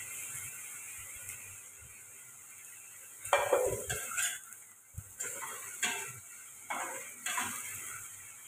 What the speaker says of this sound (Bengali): এটা বেশিক্ষণ নাড়া দরকার হয় না, একটু নাড়লেই হবে।